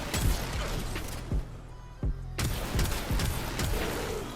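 Warframe weapon-attack explosions in a game fight, several sharp booms at irregular intervals over a dense, constant backdrop of combat noise, loud and close with no talk.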